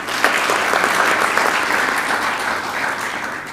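A conference audience at a coffee summit in Africa claps warmly, a dense, even burst of applause that stays strong throughout before tapering slightly at the end.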